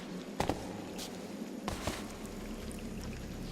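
Flowing water in the cave exploration game Scanner Sombre, a soft continuous rushing trickle at low level, punctuated by a few faint tapping steps or knocks.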